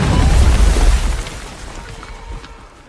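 A bomb goes off in the 2023 film 65, used to kill a predator: a loud deep boom with heavy low rumble that peaks early and then decays into a fading roar over a few seconds.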